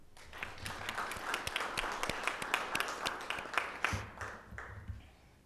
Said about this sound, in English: maybe we can do it right now with a round of applause.